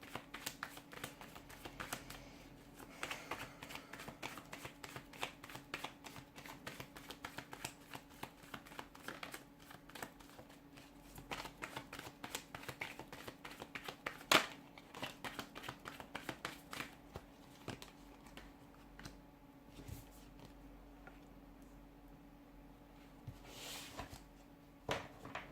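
Playing cards shuffled and drawn by hand during a tarot-style reading, a steady run of soft riffling and flicking taps across the whole stretch, close and moderately quiet, with no talking.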